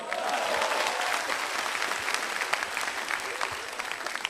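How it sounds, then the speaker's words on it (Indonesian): Audience at a televised stand-up comedy special applauds continuously, a dense wash of clapping that starts strong and tapers slightly, with a few sharper individual claps near the end. "But I love you Ernest, tepuk tangan untuk dia."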